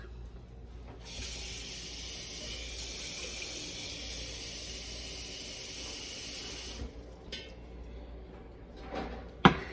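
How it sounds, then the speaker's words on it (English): Tap water runs steadily into a cooking pot on a stovetop, adding about a cup of water for a cheesy ramen and hot dog meal; a continuous hissing stream lasts several seconds, then stops, followed by faint kitchen clatter and a sharp clunk. "So then in this pot, we're going to add water again, about 1 cup."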